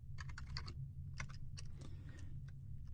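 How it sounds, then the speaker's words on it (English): Typing on a computer keyboard, with quick bursts of light, close key clicks separated by brief pauses, against a low steady hum. "So I can enter the field here, type in Don Kiley,"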